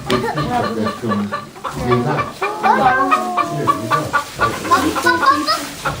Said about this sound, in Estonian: See on kukk.